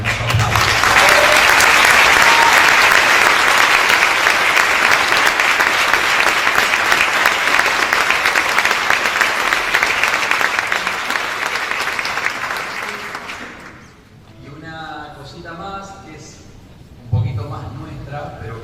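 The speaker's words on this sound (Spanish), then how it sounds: "quiero pedirles un hermoso aplauso." Loud, sustained audience applause for a work team at a choral festival in Río Gallegos, a full room clapping for about thirteen seconds before fading into someone speaking.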